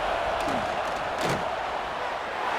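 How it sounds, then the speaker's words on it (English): Football stadium crowd at an AFL arena game roaring loudly, a dense sustained wall of cheering with a brief swell and impact-like burst partway through. "These fans are going absolutely nuts."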